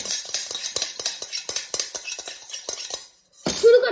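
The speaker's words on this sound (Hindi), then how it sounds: "सो गाइस अब हमें इसको फिर से मिक्स करना है ताकि अच्छी तरीके से हमारे मैगी का जो टेस्ट है वो खिल के आए।" A utensil clinks rapidly and rhythmically against a pot while Maggi noodles are mixed, a quick run of metallic taps, then a short pause and one last clattering scrape.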